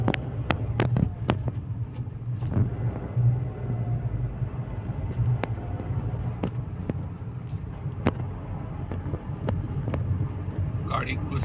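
A Tata Punch pulls away in first gear with its throttle controller set to race mode, giving a steady low engine rumble with scattered sharp clicks, while a voice talks over it.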